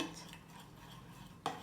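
Dough for Ramadan pide bread being stirred in a bowl, a faint, soft scraping mix that runs steadily before a sharper clink of utensil against the bowl near the end.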